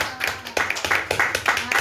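A group claps in a quick, steady rhythm at a birthday celebration, moderately loud, with voices talking and calling over the clapping.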